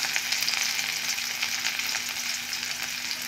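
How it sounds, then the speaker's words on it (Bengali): Onions frying in a pan give off a soft, steady sizzle and crackle, close by and continuous, with no voices over it. "এরপর পেঁয়াজ দেব, এবারে ভালো করে ভেজে নেব।"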